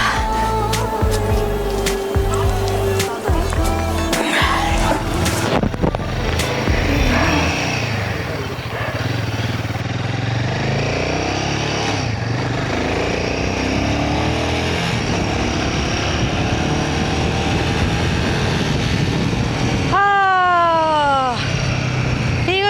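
Wind roaring steadily over a moving motorcycle on a solo ride from Bengaluru, loud and close, with engine and traffic sounds and occasional talk mixed in.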